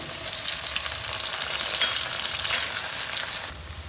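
Chopped onion and small chopped tomato frying in oil with bay leaf, cinnamon and cumin seeds for a quick chicken curry, a steady loud sizzle with faint stirring scrapes, close and continuous without speech.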